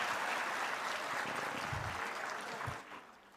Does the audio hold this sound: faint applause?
yes